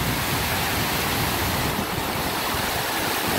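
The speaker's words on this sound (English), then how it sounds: "I love the sound of rushing natural water." Steady broadband rush of water spilling over small falls, constant and close, with no voices.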